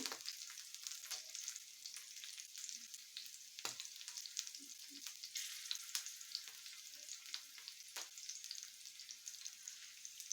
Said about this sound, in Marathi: तर मिरच्या पण छान भाजून द्यायच्या